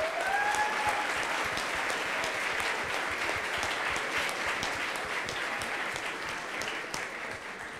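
Applause at the ICPC Latin America programming championship closing ceremony, a steady crowd of clapping hands that stays fairly even and fades slightly toward the end.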